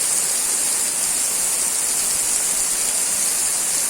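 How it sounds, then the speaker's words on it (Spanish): Steady heavy rain pours onto a straw house, a dense, unbroken hiss holding constant and loud with no pauses or voices. "Y acá como cae la lluvia"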